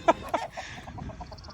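Farm chickens cluck in short bursts close by: two louder clucks at the start, then softer quick clucks over a light background.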